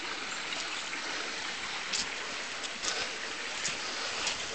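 Creek water runs steadily in old gold-mining country at Copeland, a continuous close rushing babble with small bright splashes and no voices.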